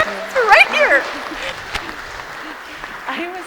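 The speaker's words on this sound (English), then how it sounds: "You applaud." An audience at an annual general meeting claps at moderate volume, with a brief voice near the start, then softer applause continues in the background.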